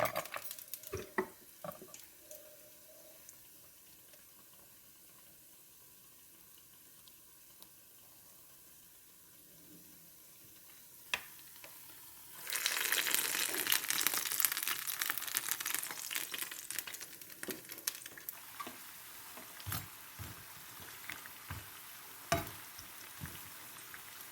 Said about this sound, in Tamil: வடை அந்த மாதிரி பொறிஞ்சு கொண்டு இருக்குது